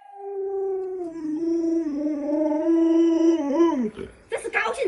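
A plump pet dog howls and whines in a long drawn-out wavering tone, close and fairly loud, breaking into shorter whimpers at the end.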